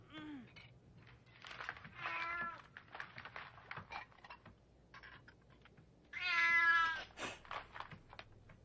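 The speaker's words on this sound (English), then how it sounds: "What? A cat?" A cat meows several times at close range, with bright drawn-out cries separated by soft tapping and rustling in a quiet indoor scene.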